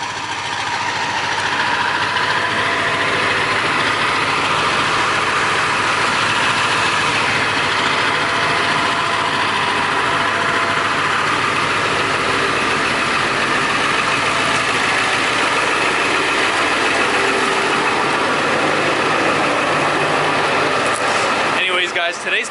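A Ford F350 dually diesel pickup with 350,000 miles and stock emissions equipment sits idling nearby. The engine and exhaust drone steadily and loudly for the whole stretch, with a short handling noise at the very end.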